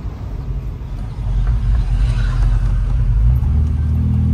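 A car drives over a sandy road in Dubai, giving a steady, loud low engine and tyre rumble that swells slightly partway through and keeps going to the end, with no voices.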